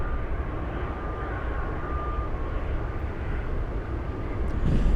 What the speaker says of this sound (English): The big 747 pushing back.